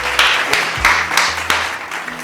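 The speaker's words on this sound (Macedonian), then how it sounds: "Аплауз, за него" An audience bursts into applause for a guest, with a few quick rounds of clapping over a short stretch, fairly loud and close.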